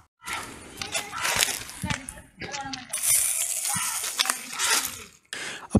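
Organic pesticide sprayed onto vegetable plants, repeated close hissing bursts of mist with short pauses between them, while voices are heard in the background.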